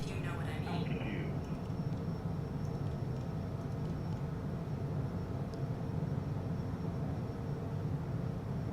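Aircraft lifting off in Microsoft Flight Simulator, a steady broadband engine roar that holds loud and constant throughout, with a faint voice in the first second.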